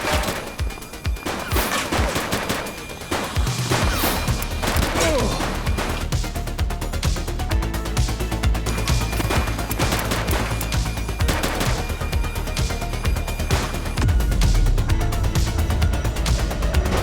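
Gunfire in The Precinct police game: loud, dense bursts of shots and crashes overlapping game effects and music, sustained and heavy throughout.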